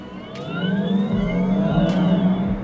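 A Volkswagen ID.3 electric car drives with a synthetic whirring drive sound that rises and swells as it accelerates, steady and fairly loud for a few seconds without speech.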